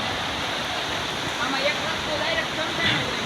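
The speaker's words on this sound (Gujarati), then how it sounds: "પાણીનો ધોધ તો જવા ચોમાસાનો" A continuous roar of falling water, steady and broadband, from a monsoon waterfall at Jatashankar on Girnar, heard from nearby.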